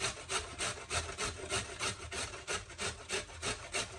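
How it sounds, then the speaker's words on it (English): A carrot rubbed against a small grater, steady rhythmic rasping strokes about two to three per second, close and fairly loud, with no talking. "you're going to grate your carrot on a small grate"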